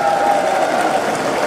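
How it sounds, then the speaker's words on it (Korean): At a Busan branch ceremony marking 50 years since the Vietnam War deployment, an audience gives a district group a burst of applause and cheering, a loud, continuous crowd wash with a voice ringing over it. "연재구 박수 한번 주세요."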